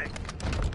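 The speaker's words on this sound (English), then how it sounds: "Changing mag." A weapon magazine is swapped during a first-person shooter match: a quick run of mechanical clicks and rattles lasting under a second, close and moderately loud amid light background game noise.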